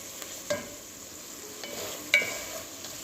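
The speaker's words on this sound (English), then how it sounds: "So let's add our veggies to this. Loads of peppers and onions and carrots." Peppers, onions and carrots go into a pan of tender peppered beef, with quiet sizzling and a few clattering stirs and spoon knocks, no talking.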